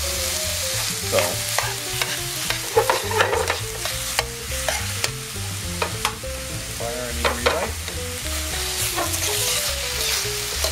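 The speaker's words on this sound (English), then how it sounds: "So we just stir this around for about a minute, get it thoroughly warm" Spaghetti squash seasoned with pink salt and cracked pepper sizzles in a hot pan while a utensil stirs and scrapes it around, close and steady, with a brief spoken word near the start.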